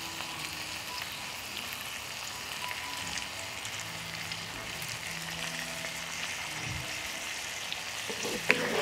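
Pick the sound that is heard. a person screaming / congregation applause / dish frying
dish frying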